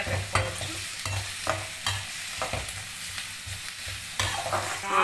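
Onions sauté over high flame in a pan for Rayalaseema gongura chicken, a constant sizzle with a low steady hum underneath and repeated spoon scrapes every half second or so, near and fairly loud, with no speech.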